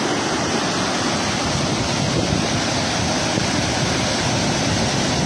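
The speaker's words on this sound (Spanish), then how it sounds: "Vean ustedes qué chorro de agua entra hoy al pantano." The Bullaque river gushes into the Torre de Abraham reservoir, a loud, continuous roar of rushing water heard up close without pause, mixed with some wind buffeting.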